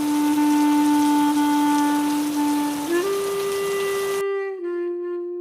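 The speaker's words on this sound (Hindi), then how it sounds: "बारिश का शोर बढ़ता है।" Heavy rain pours as a dense, steady hiss under sustained musical tones. The rain cuts off abruptly near the end, leaving the tones ringing alone.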